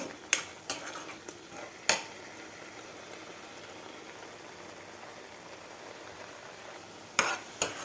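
Onions fry in a pan for Andhra-style fish curry with a low, steady sizzle, while a few sharp clanks of a spoon against the pan stand out near the start and near the end.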